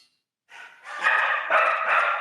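Dogs bark in the background, a quiet opening followed by a steady run of overlapping barks that grows louder toward the end, with no talking.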